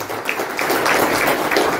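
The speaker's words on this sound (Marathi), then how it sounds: "ज्यांचं प्रेम आमच्या सगळ्यांवर आहे अशा निलेजी राणे साहेबांसाठी जोरदार टाळ्या होत्या." Applause from the audience at a Maratha community student felicitation ceremony, a dense, steady wash of many hands clapping at close range, with no voices.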